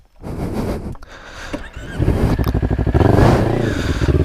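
A Kawasaki Z or Ninja 400 motorcycle fitted with a Fuse Racing exhaust idles unevenly, then rises into a loud, steady rev with a pulsing beat, close to the recorder and pulling away from a muddy patch.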